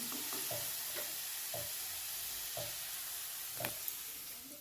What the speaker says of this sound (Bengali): ওই তেলে আমি পেঁয়াজ ভেজে নেব